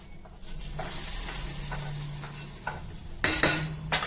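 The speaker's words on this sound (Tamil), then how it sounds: "இப்போ நம்ம இதை அடுப்பை ஆஃப் பண்ணிவிட்டு தாளிச்சதை ரசத்தில் சேர்த்துடலாம்" Hot oil sizzles as a tempering of seasoning hits a pot of rasam, with metal clinks and stirring, close and moderately loud, a few sharp scrapes near the end.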